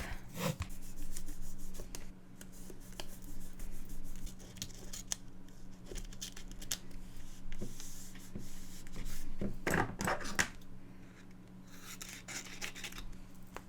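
Washi tape handled and pressed down in a paper planner, with quiet, close rubs and crinkles and a few sharp scissor-like snips near the end.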